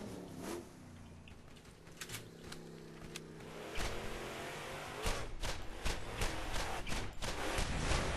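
A car engine in the Borderlands video game revs and roars, rising and growing louder through the second half, with thumps and clatter mixed in and nobody speaking.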